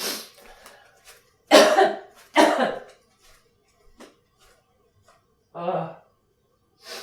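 Several harsh coughs come in quick bursts, close to the microphone, separated by short silences and followed by a softer cough or throat noise.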